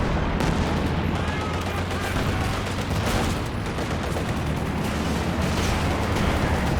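Artillery barrage in the Company of Heroes 2 battle game during a 2v2 match, a dense continuous roar of shell blasts and gunfire filling the mix, loud and sustained, with a commentator's voice underneath.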